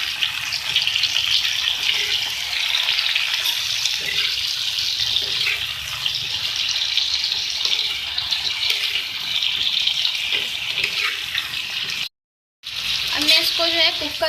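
Chopped tomatoes and crushed red chilies fry on a hot tawa for spicy tawa aloo, giving a loud, steady, close sizzle that cuts out briefly near the end before resuming with a few stirring scrapes.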